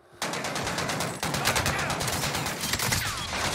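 Burst-fire gunshots in the Call of Duty Rebirth Island video game crack out loud and rapid after a brief quiet start, with a short gap before more sustained firing and dense combat noise behind.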